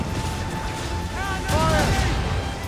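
Naval cannon fire on a captain's command, dull booms in a noisy battle, with harmonic voice-like tones layered over the rumble.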